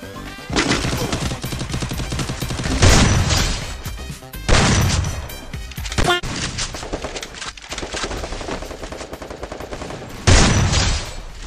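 An M1887 shotgun fires repeatedly in Garena Free Fire, loud close booming blasts every couple of seconds mixed with other gunfire and game effects.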